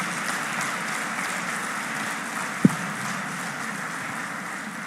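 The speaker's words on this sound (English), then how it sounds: "A loud round of applause for him" Audience applause for chief guest Srikanth Bolla at the Poultry India Knowledge Day 2024 expo event: a steady, dense wash of clapping that holds evenly throughout, broken by a single sharp knock midway.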